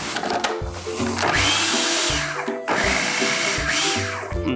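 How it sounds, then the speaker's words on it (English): A food processor pulsing buttermilk biscuit dough ingredients, loud whirring motor bursts that start and stop in a quick repeating rhythm, with the blade rattling through the dry mix. "we are going to pulse these together just a little bit"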